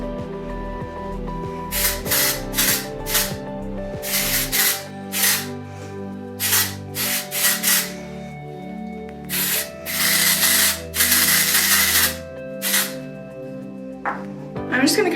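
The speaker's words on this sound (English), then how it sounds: "my Ouai texturizing hairspray to give me a lot of volume" Short bursts of Ouai texturizing hairspray misted onto hair for volume, several separate hisses in an uneven rhythm, close and fairly loud, set against background music.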